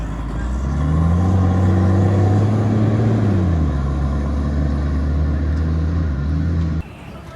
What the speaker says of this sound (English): for people to ride in some sort of armoured vehicle. Riding a Bushmaster.